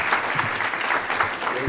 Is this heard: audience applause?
yes